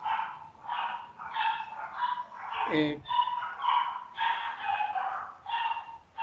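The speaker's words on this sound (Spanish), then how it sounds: "disculpa por el ruido de los perritos" Several small dogs bark and yip repeatedly, fairly close, with one lower whimpering growl midway, partly overlapping a brief spoken syllable.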